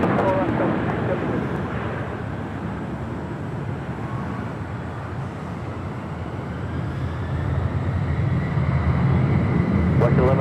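A Delta Boeing 767 heavy jet takes off from runway 24 left at Los Angeles International Airport, its engines a loud, sustained roar that holds steady and swells toward the end.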